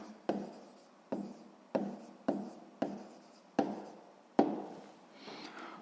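A pen writes on paper during a sixth-grade maths exercise, making a series of about seven short, soft scratching strokes at close range with no talk.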